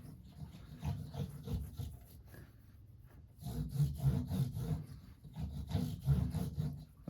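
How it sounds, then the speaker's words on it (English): Fingertips rub oil into the wooden back of a guitar during string changing and maintenance, giving a soft, close, steady rasping friction in repeated strokes with a short pause partway through. "I like to rub it with my fingers so it gets a little warm"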